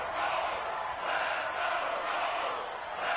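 A football stadium crowd roars in a steady, dense swell of cheering and shouting ahead of a big third down against the Ravens, loud and continuous with no single voice standing out.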